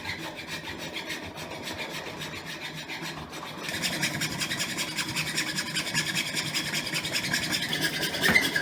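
Close, steady rasping of a saw cutting through a wooden trench club handle, with repeated back-and-forth strokes that grow slightly louder partway through.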